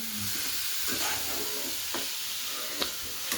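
Grated carrots for halwa roast in a pan on the gas flame with a steady sizzle. Several soft scraping strokes from stirring sound close by, with a sharper clink near the end.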